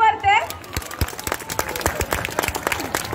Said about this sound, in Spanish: que aplauda bien fuerte.